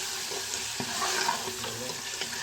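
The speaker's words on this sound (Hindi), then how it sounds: "चिकन को अब हम इसमें ब्राउन कर लेंगे थोड़ा सा।" Chicken browning in a pot while making nihari, a steady broadband sizzle and frying hiss with faint stirring knocks, close and fairly loud throughout.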